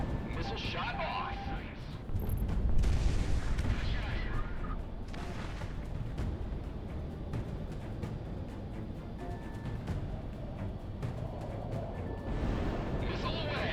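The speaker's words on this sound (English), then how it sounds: "Missile shot off." Missile launches and rapid gunfire from the Project Wingman flight combat game, a dense, continuous roar of booming shots and whooshing launches, loud and sustained, with a voice talking over it.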